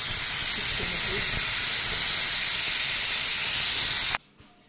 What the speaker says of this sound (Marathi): आता मस्त का झाकण लावून आता कुकर लावलंय. 2 शिट्ट्या करून घ्यायच्या.